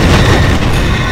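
A barricade blowing apart in the zombie shooter Dead Trigger 2, a loud, dense broadband boom with heavy low rumble that holds steady as crashing debris for just over a second.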